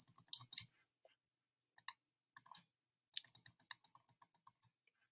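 Computer mouse clicks while selecting areas in photo-editing software to change a car's colour: a quick cluster of sharp clicks, a pause, two brief pairs, then a steady run of evenly spaced clicks, close and crisp.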